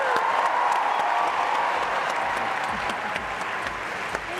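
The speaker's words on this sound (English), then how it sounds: "Can we give them a big round of applause" A large auditorium crowd at a science fair opening ceremony applauds in a sustained, thick roar of clapping, with a few scattered cheers and sharper individual claps standing out near the end.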